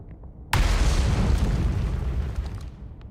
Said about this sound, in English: Dang, those are some crazy explosions.